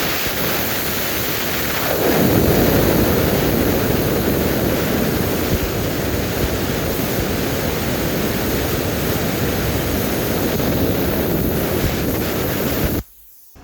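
A Silatu 55 amp plasma cutter slices through 3/8-inch steel plate with a loud, steady roaring hiss that starts after two seconds, runs about eleven seconds, and stops abruptly.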